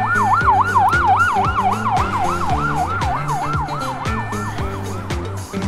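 A siren wails in a fast, steady up-and-down pattern, loud and close, over a rhythmic background music track.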